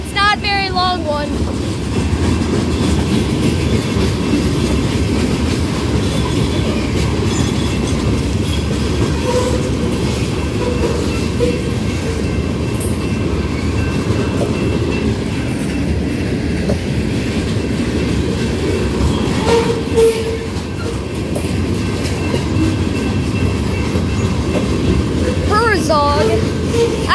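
A train rolls steadily past nearby, a long string of rail cars producing a continuous loud rumble and clatter, with brief metallic wheel squeals near the end.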